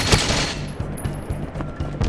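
Rapid bursts of video game gunfire from a multiplayer match with snipers, sharp loud cracks repeating in a steady rhythm, close and clear with no talking.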